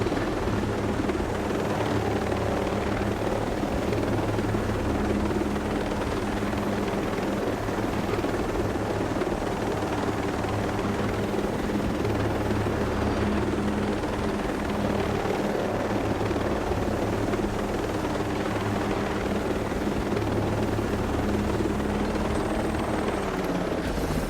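Helicopter flying in the video game Ghost Recon Breakpoint, its loud rotor and engine drone steady and continuous throughout with no talking.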